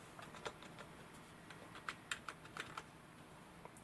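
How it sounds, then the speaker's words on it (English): Quiet, irregular clicks of someone typing a command on a computer keyboard beside a Commodore 1541 setup, a handful of sharp keystrokes clustered in short runs with pauses between. "You just simply type."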